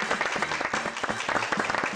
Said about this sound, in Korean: 다시 한번 큰 박수 보내드립니다.